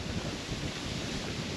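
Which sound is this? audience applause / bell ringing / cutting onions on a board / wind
wind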